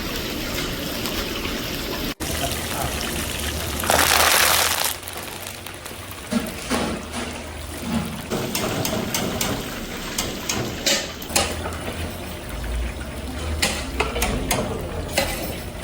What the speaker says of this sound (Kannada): ಸೊ ಆಲ್ಮೋಸ್ಟ್ 100 ಗ್ರಾಮಷ್ಟು ಬೆಳ್ಳುಳ್ಳಿ ಹಾಕಿದ್ರು. ಅದು ಚೆನ್ನಾಗಿ ಡೀಪ್ ಫ್ರೈ ಆಗಬೇಕು.